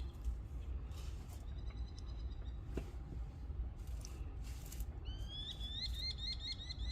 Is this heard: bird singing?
yes